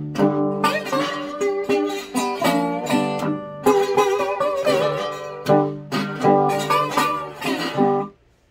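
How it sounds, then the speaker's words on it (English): A turnaround part in a high-end voicing on guitar, played alone as a series of plucked notes and chords in a loose blues rhythm, close and clear, stopping abruptly at the end. "a high-end voicing or a turnaround part that sounds kind of like this."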